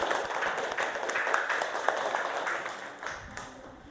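A fourth-grade class claps for a classmate in a school science lesson, a dense patter of many small hands that swells, holds for several seconds and then thins out, with no talking over it.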